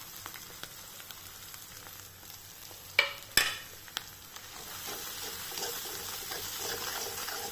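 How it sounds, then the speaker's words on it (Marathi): Spices frying in oil for kaju paneer masala, a steady soft sizzle with a couple of sharp spatula clinks near the middle and a brighter crackle swelling toward the end. "तळून झालेले आहेत आपले मसाले"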